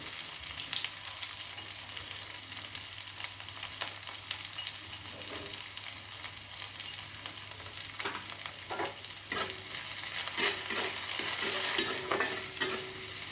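Vegetables frying in a pan on a home kitchen stove, a steady soft sizzle with scattered clicks and scrapes of stirring that grow louder toward the end, no talking.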